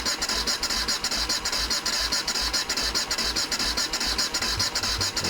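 A motorcycle engine, either a BMW F650 Funduro or a Kawasaki ZL600 Eliminator, is cranked and struggles to catch, giving a rapid, regular mechanical chugging with a rhythmic low thump, close and steady without settling into a smooth idle.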